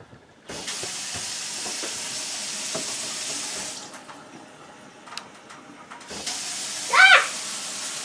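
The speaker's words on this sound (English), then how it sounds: "let's get to washing our hands so we can go." Tap water runs steadily into a sink as hands are washed beneath it, the flow cutting out briefly partway through and then resuming, with a short squeaky sound near the end.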